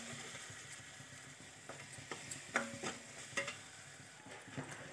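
Spices frying in oil with cumin powder and turmeric, a soft steady sizzle with light scraping stirs and small clicks against the pan, close and fairly quiet, with no talking.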